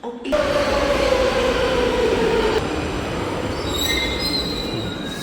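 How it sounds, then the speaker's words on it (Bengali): A Brussels metro train's wheels squeal loudly and continuously at a station stop, with a long high-pitched screech that shifts into thinner metallic tones over the rumble of the train. "এই যে মেট্রো, এটা"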